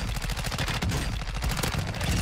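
Rapid automatic fire from a Chimera SMG in Warzone 2 crackles in a dense, loud, continuous burst, close and punchy with no talking over it.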